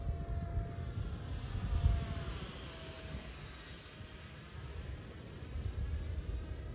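A 3D-printed PLA Viggen with a 50mm ducted fan, an RC jet, flies at half throttle, giving a steady high-pitched whine over a broad rushing roar that swells and fades slightly as it passes.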